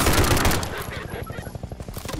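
Rapid automatic gunfire in Garry's Mod fires in a dense burst and then settles into a steady, evenly spaced rattle of shots, with loud blasts throughout and a voice talking over it.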